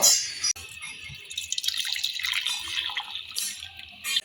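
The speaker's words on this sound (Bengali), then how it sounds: "আরেকটা কড়াইতে আমি পানিগুলো ঢেলে নিলাম" Strained raw mango water pours into a wok with a close splashing trickle, uneven and dripping, rising again briefly near the end.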